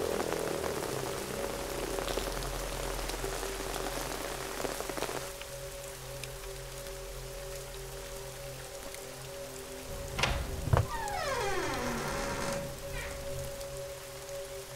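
Steady rain patters on surfaces as a dense, continuous hiss that lasts throughout, with faint background tones and a brief knock near the end.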